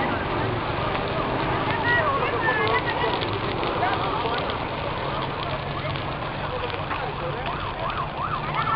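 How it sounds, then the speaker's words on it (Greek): An emergency vehicle siren wails with rising and falling sweeps at a fire on burning land in Kallithea, Corinthia, Greece. It sounds moderately distant and sits within steady outdoor noise, with people talking nearby. "Τώρα ακούγεται κάποια σιρήνα."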